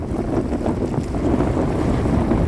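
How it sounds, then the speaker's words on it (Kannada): Wind and waves at the KRS reservoir backwater, a steady broadband rush of gusting wind buffeting the microphone over lapping water, continuous and fairly loud with no voices. "ಇಲ್ಲಿ ನೋಡಿ ಎಷ್ಟು ಅಲೆಗಳು ಹೊಡಿತೈತೆ"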